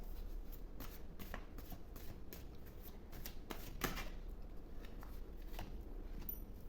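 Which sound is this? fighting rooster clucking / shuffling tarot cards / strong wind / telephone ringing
shuffling tarot cards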